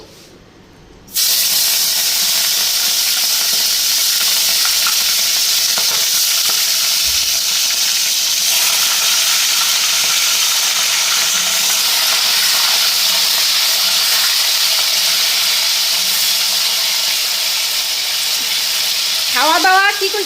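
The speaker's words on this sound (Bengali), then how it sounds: "এদিকে চিকেনগুলি ফ্রাই করে নিই" Chicken pieces fry in a hot pan, starting with a sudden loud sizzle that holds steady and close throughout, with brief stirring bumps and a faint rising hiss near the end.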